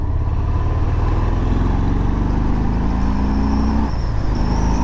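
A 2019 Harley-Davidson Fat Bob 114 motorcycle accelerates hard out of a roundabout, its engine note climbing steadily in pitch over a constant loud rumble and wind noise, with no talking.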